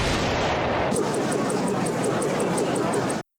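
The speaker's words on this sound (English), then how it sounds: "He keeps firing bloody missiles." Missiles fired in a video game, heard as a dense, loud roaring rush of noise with a rapid, repeating series of launch pulses, cutting off abruptly at the end.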